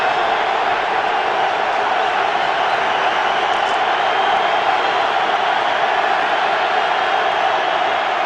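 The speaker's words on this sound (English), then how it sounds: "This is one place where the crowd doesn't get tired." Huge stadium crowd at a Steelers home game against the Chargers in 2008, with fans waving towels, roaring as a steady, dense wall of noise with no breaks throughout.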